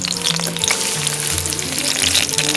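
Chili dropped into hot oil in a wok sizzles and fries loudly and continuously, close by, with light stirring clatter over the crackle.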